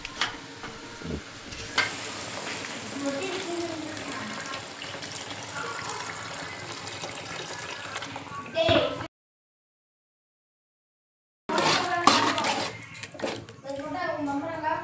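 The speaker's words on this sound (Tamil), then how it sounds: "தண்ணி ஊற்றி கொஞ்சம் வேக விட்டுக்கலாம்." Water runs and splashes into a cooking pan for murungakkai kuzhambu amid kitchen clatter and a voice, then cuts to silence before sizzling and talk resume.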